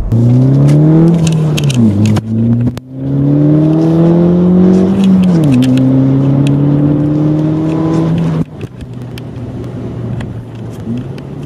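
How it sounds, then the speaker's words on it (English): A Ford Fiesta ST engine revs hard through several gears, pitch climbing then dropping sharply at each shift, loud and close. "you're constantly shifting this little car"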